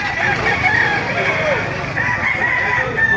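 A rooster crows amid a busy chorus of other chickens in Baliuag, Bulacan, with crowing and clucking overlapping in a loud, crowded yard.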